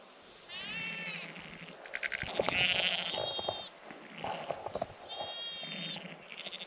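Sheep bleat repeatedly in a lambing shed, several drawn-out quavering calls overlapping at close to middle distance over a rustling background, with no voices.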